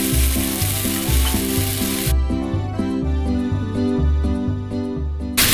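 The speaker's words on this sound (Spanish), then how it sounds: "Y una vez que está caliente, vamos a añadir nuestra cebolla." Onion frying in hot oil in a saucepan, a steady loud sizzle with a constant hiss, with a low repeating tonal hum running underneath throughout.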